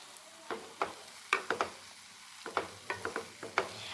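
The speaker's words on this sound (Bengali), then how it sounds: "আমি এখন সিমটাকে কমিয়ে এই মিশ্রণটাকে একদম টানিয়ে নেব।" Thick semolina sweet mixture stirred in a pan over low heat, with irregular clicks and scrapes of the spoon over a faint, quiet sizzle.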